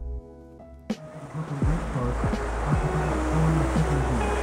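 A tour boat moves along the Harlem River in New York, its hull washing through water with a steady rushing splash that builds after a brief knock, close and continuous, with no talking.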